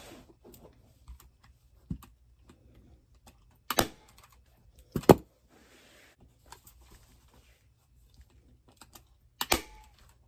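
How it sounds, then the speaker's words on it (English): A staple gun fires staples through fabric into a chair cushion base, several sharp isolated snaps spaced seconds apart over quiet, with a few faint handling ticks between. "I'm just going to start stapling"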